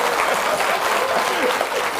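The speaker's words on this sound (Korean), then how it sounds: "그게 박수 칠 일이야?" A crowd attending an all-night Buddhist dharma service at a temple claps, a loud dense patter of applause that runs for about two seconds.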